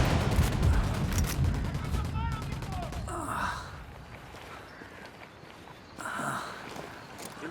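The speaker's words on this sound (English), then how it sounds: "Opening fire." Gunfire in the Ghost Recon Wildlands video game crackles in bursts through the opening seconds, then fades to quieter scattered shots and movement, with a voice heard briefly.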